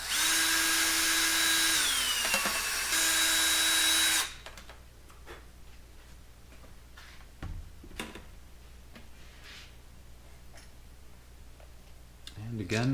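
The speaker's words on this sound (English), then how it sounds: "It's drilling another hole for a shear pin." A loud, steady whine of a power drill boring a shear-pin hole in a high-power model rocket nose cone, running about four seconds, stopping briefly mid-way, followed by quieter clicks and handling noises.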